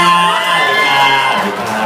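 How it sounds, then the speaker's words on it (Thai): A crowd at a press event cheers and applauds, a dense, loud, steady wash of clapping with whoops and shouts throughout. "ขอเสียงปรบมือกับพี่ปองแปง"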